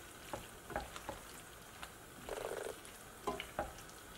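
Onions stir-fry in a pan with sesame oil under a faint, quiet sizzle, with scattered clicks and a short scraping burst as a utensil turns them over.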